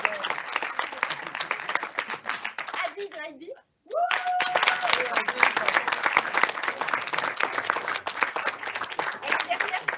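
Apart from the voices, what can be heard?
audience applause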